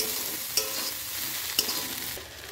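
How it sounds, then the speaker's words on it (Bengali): Food frying in a pan on a home kitchen stove, a steady broadband sizzle with two sharp utensil clinks from stirring about a second apart, close and alone without any talk. "আর এদিকে আমার ভাজাও কমপ্লিট"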